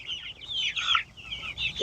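Backyard hens cluck and chatter close by in a steady murmuring stream of soft, warbling calls, with no one speaking.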